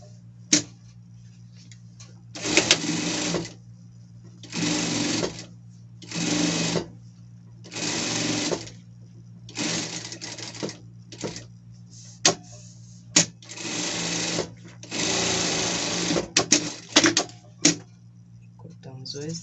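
A sewing machine runs a safety seam along the top of a costume piece in about nine short, even bursts of rapid clatter, separated by quiet gaps, with sharp clicks in between and a voice talking.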